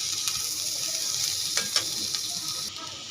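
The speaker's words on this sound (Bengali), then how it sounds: "আমি পেঁয়াজের সাথে ভালো করে ভেজে নেব" Dried ribbonfish shutki frying in a pan with onions and turmeric: steady close sizzling with occasional stirring scrapes, continuous and fairly loud.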